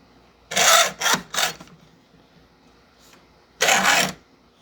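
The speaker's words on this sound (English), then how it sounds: "we'll just cut straight through that nut and bolt at the same time" Cutting tool sawing straight through a nut and bolt on a barstool being converted to a walker: three short rasping bursts in quick succession, a pause, then one longer rough burst, loud and close.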